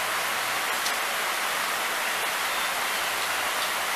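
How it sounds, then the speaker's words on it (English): Steady rain falls around a porch on a Saturday night, a dense, even hiss that fills the whole stretch with no letup and no voices. "Oh, rain, huh?"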